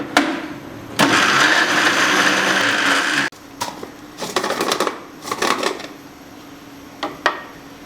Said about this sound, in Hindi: मैं इसको अच्छे से पीस लूँगी।